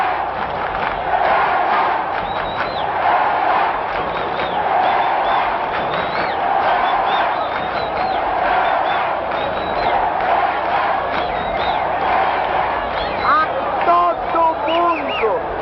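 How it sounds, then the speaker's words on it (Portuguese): Football stadium crowd roaring and chanting before Pelé's penalty kick against goalkeeper Andrada, a massive sustained wall of shouting voices throughout, heard through a broadcast-style recording. "ouçam só a torcida toda"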